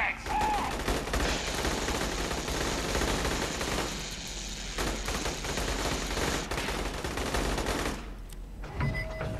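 Dense, sustained gunfire from a firefight in Aliens: Colonial Marines, with rapid automatic fire and overlapping shots filling nearly the whole stretch, briefly thinning near the end, with voices heard beneath.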